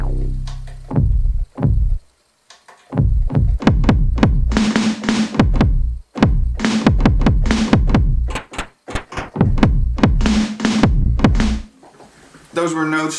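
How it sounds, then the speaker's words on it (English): A run of punchy, percussive synthesized notes and drum-like hits played from a MIDI keyboard on an Elektron Analog Four synthesizer, in quick succession, some tonal, loud and close, ending with a brief bright flourish. "Those were notes played on the MIDI keyboard."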